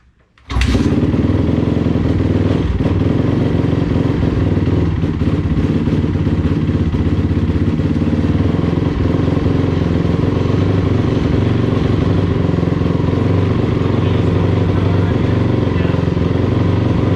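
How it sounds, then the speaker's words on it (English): A 2002-2004 Honda CRF450R dirt bike fires up after a water pump seal replacement, then idles loudly and steadily up close with a throaty, rattling thump that continues unbroken. "we can go ahead and start the bike"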